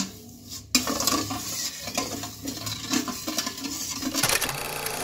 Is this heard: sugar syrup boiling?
yes